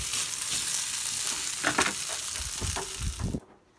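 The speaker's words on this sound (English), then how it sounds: "my omelet turned into being more like a stir fry" A pan of vegetable omelet sizzles and fries steadily like a stir fry, with scraping stirs and clatters of a utensil, then the sizzle cuts off abruptly near the end.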